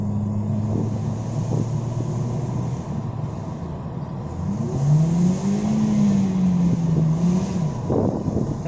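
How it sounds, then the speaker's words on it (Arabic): A Toyota Corolla with a gearbox slipping in third gear while driving: engine drone holds steady, then rises and wavers in pitch as revs flare without matching pull, continuous and close inside the cabin with no talk. "انتبهتوا من التفويت اللي بيحصل في الغيار الثالث؟"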